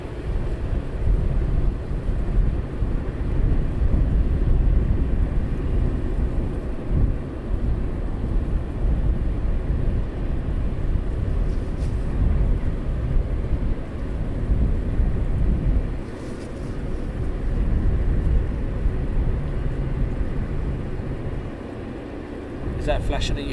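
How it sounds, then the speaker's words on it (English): A Boeing 777 taxiing for departure at East Midlands Airport at night: a steady, loud low-pitched jet engine rumble with wind buffeting at the microphone, continuing for the whole stretch. "777 is also now taxiing, ready for departure"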